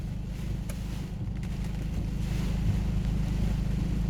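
A strong, typhoon-strength gale roars and buffets the microphone beside a pepper field in Namhae, South Korea, producing a loud, continuous low rumble that swells slightly toward the end, no speech.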